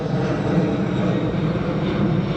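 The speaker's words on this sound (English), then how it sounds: "as a plane flies overhead." A fixed-wing airplane drones steadily overhead above a stadium construction site at Miami Freedom Park, a continuous engine rumble with no voices.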